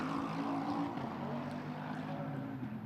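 A Bentley GT race car pulling out of the pits at the Red Bull Ring during a GT Masters race, its engine a distant, steady droning roar over track ambience.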